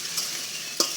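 Maggi noodle snack mixture stirred in a frying pan, a gentle sizzle with two brief clinks of the utensil against the pan, close and quiet.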